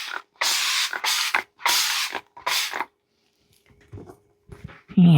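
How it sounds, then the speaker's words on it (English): Four quick hissing spritzes from a spray bottle over a resin sign, each lasting about half a second, close and distinct, followed by faint handling noises and a soft thump. "Now, I'm going to spritz this."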